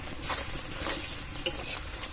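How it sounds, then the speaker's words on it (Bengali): Spice paste sizzles and fries in oil in a pan for a Bengali mustard fish curry, a close, continuous crackle with soft stirring scrapes and no voices. "তেল ছাড়া পর্যন্ত মশলাটা কষিয়ে নেব।"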